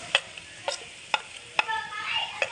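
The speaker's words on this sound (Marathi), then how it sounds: "वाटण पण चांगलं भाजून घेऊया" A spoon stirs ground masala paste roasting in a pan for a village-style chicken gravy, giving sharp intermittent scrapes and clicks over a faint, low sizzle.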